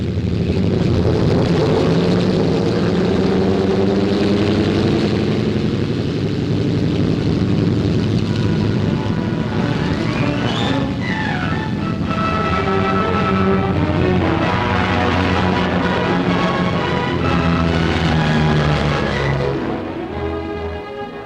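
RAF Washington propeller bombers drone loudly and steadily, multiple piston engines roaring close by with a shifting, beating tone throughout and no talk.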